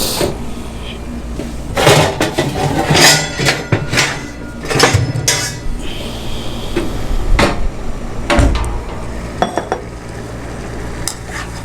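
Boiled macaroni pasta being strained in a kitchen, with clattering metal pot and utensil knocks, splashy draining and several sharp clanks spread through the clip, loud and close.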